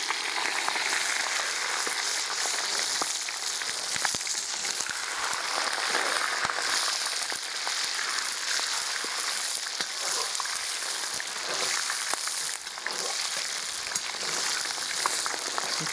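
Onion fries and sizzles in a new 12-litre cauldron (kazan), a dense, steady crackling hiss with scattered pops that continues throughout.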